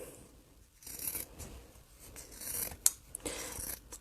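Fabric scissors trimming a seam allowance through layered fabric and foam, a series of quiet, close snipping cuts with soft rubbing between them and no speech.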